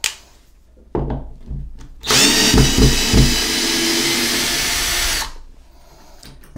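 Power drill backing screws out of a wall-mounted toilet paper holder, a loud whining motor burst lasting about three seconds after a few short knocks and handling sounds, close up and alone.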